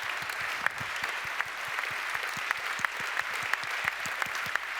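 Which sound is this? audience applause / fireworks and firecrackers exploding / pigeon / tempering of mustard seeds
audience applause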